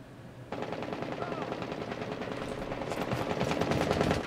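Rapid automatic gunfire from Rainbow Six Siege, a dense continuous burst that starts abruptly and stays loud, growing slightly heavier toward the end.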